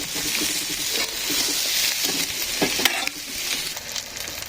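Eggs frying in a pan, a steady bright sizzle with occasional stirring scrapes and pops, continuous and close throughout.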